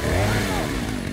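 A revving chainsaw in the Resident Evil 4 Separate Ways game makes a loud, steady buzzing engine drone that holds throughout the short moment with no pause.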